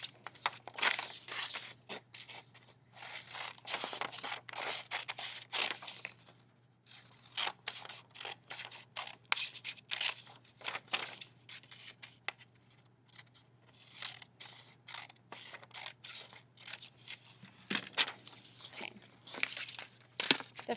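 Scissors cutting out a paper design for radial printmaking, with rapid, close, crisp snips and rustling paper in repeated bursts with brief pauses.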